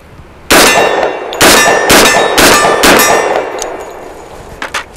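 A pistol magazine drops free from an Extar EP45 and strikes a hard surface with a string of bright metallic clangs, about five loud ringing hits in quick succession and then a couple of fainter taps.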